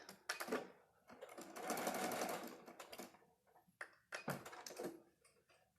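A sewing machine runs in bursts to finish a quilt seam, with short stitching runs and one longer steady stretch, close and fairly quiet.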